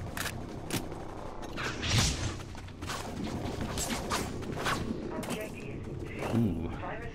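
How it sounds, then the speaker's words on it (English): Scrambler rifle fire in the sci-fi shooter Dust 514 crackles in repeated bursts over a dense battle din of other weapons and explosions, loud and continuous throughout. "It's a scrambler rifle."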